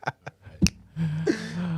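Fingers snap a few times in short, sharp clicks, sparse and close, before a humming voice and a sustained tone take over.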